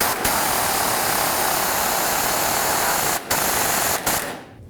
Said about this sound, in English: Now we're just going to go ahead and tighten up all of our bolts.